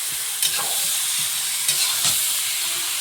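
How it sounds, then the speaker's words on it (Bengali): Meat mixed and fried in hot oil for biryani, a loud continuous sizzle with a few scraping strokes of the spoon close by, no talk. "এবার মাংসটা দিয়ে দেবো। জল ঝরে গেছে এর থেকে, মিশিয়ে ভালো করে কষিয়ে নেব।"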